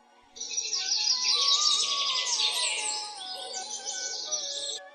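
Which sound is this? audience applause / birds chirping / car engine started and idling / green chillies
birds chirping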